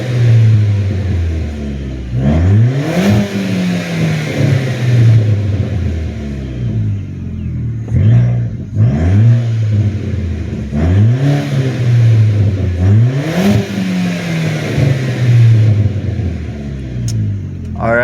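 An Audi 1.8 engine revs up four times, each blip rising sharply then falling back to a rumbling idle, loud and close with an even rhythm.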